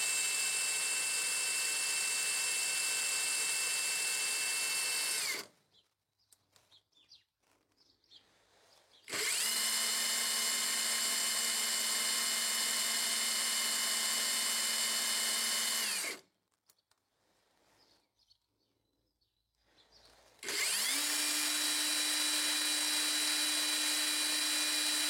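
Narex ASR 600 impact wrench (2050 Nm) running without load in three loud sustained bursts with pauses between them, the motor pitch shifting on the last run.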